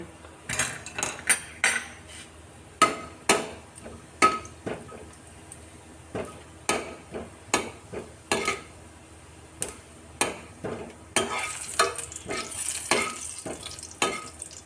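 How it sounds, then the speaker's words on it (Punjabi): Cumin seeds roasting in ghee in a frying pan give a soft background sizzle under frequent sharp clinks and scrapes of a spoon stirring against the metal pan. "ਵਿੱਚ ਆਪਾਂ ਹੁਣ ਪਾ ਲਿਆ ਜੀ ਘਿਓ ਤੇ ਵਿੱਚ ਜੀਰਾ ਪਾ ਕੇ ਆਪਾਂ ਹੁਣ ਇਹਨੂੰ ਭੁੰਨਦੇ ਆ"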